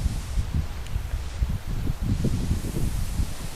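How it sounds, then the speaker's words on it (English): Breeze sweeping through foliage on a nature walk in Australia, a steady low rustle of leaves and wind noise with gusty swells, no voices. "there's really a lot of windy breeze coming through"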